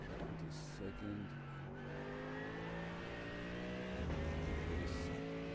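A race car engine revs and pulls through the gears on the Sebring circuit in the iRacing simulator, a steady loud whine rising in pitch with brief shifts and a renewed surge near the end, heard alone.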